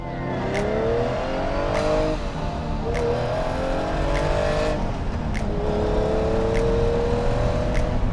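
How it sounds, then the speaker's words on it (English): A 1985 Lamborghini Countach 5000QV's four-valve engine runs steadily and loudly, revving up and down through its gears with rising and falling pitch, no voices present. "The sound is fantastic coming out of that engine."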